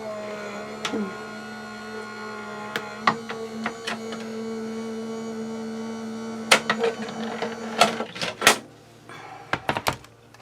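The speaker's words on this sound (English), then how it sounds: "run it through your Big Shot or whatever die cutting machine you have" A Big Shot die cutting machine runs with a low motorized hum and whir while paper is fed through, broken by scattered clicks and thunks of handling close by.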